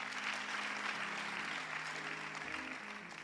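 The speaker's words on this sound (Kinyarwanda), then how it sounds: "Foursquare, Bishop ndetse na Pastor Solange, nawe mureke tumukomere amashyi" A crowd at a church gathering applauds, a steady wash of many hands clapping that sounds fairly distant and soft and holds evenly throughout.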